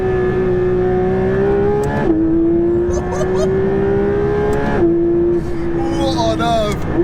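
A Porsche 911 GT3 RS engine holds a loud, steady high drone while driving, stepping up through gears with brief dips between, close and dominant under intermittent talk.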